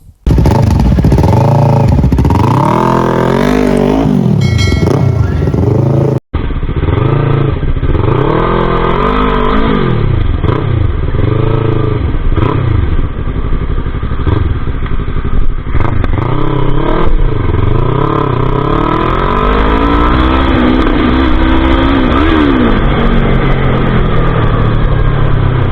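A 2024 Yamaha YZF-R3 sport bike being ridden, its engine loud and close, rising and falling through repeated revs and gear changes in steady waves for the whole stretch.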